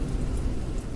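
Steady, dense rain falling on a car, a continuous soft hiss with a low rumble, even and unbroken, with no voices.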